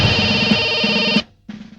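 A telephone rings in a home: a steady electronic ringtone trills continuously for just over a second, cuts off, then starts again after a short pause, loud and close with no talking.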